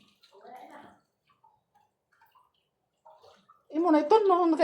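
Water runs into a bath in intermittent soft gushes, with a person speaking briefly near the end over the flow.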